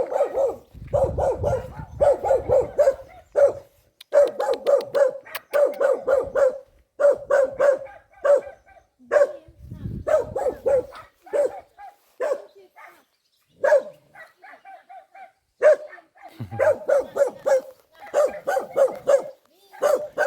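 Aggressive domestic dog barking in repeated bursts of sharp, loud barks with brief pauses, close by, with occasional quiet human sounds between them.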